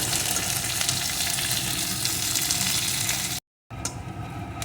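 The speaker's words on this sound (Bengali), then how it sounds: "নিম পাতাগুলো কিন্তু ভাজার সময় এইভাবে সমানে নাড়তে হবে না হলে কিন্তু পুড়ে যাবে" Neem leaves sizzle and crackle in a little hot oil, a steady close frying hiss with occasional stirring, briefly cutting out near the end.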